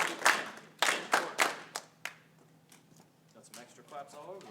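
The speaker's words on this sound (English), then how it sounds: "Got some extra claps all over the place." Band students clapping a rhythm together in a rehearsal room, several sharp group claps followed by scattered, uneven extra claps, with soft voices afterward.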